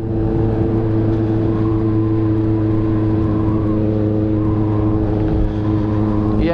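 Honda Hornet motorcycle engine running steadily while riding in a group, a loud continuous low drone with stable harmonics throughout, a slight variation near the end, no speech.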